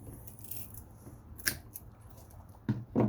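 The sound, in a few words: pliers cutting copper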